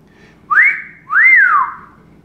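Two rising-and-falling whistled notes, the second longer and sliding back down, clear and close with no talking.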